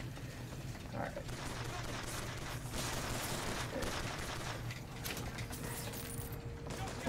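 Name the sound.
gunfire from enemies in the video game Bioshock Infinite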